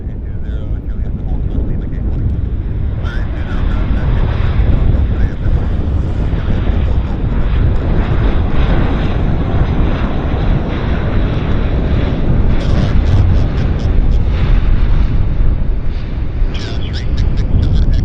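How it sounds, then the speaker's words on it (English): A Bombardier Q400 turboprop airliner lands at Vancouver airport, a loud, steady broadband engine roar with wind buffeting that lasts throughout, while a voice talks over it now and then. "Q400 landing."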